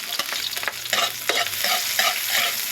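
Garlic and onion sauté in hot oil in a pan, frying bangus dish base, with close sizzling and several scraping stir strokes breaking through the crackle.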